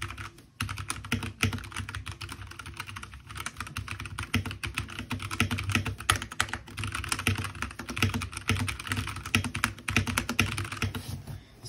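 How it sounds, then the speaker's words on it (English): A new computer keyboard for a gaming setup being typed on: fast, steady clacking keystrokes in a continuous run, close and clear, with no voice. "This is how the keyboard sounds."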